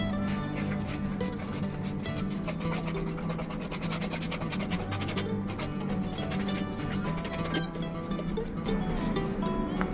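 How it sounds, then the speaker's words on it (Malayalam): A child's school shoes get a polish with a brush, a continuous close rubbing and scrubbing sound that holds steady throughout without any speech. "അവൻ്റെ ഷൂ പോളിഷ് ചെയ്ത് കൊടുക്കുകയാണ്"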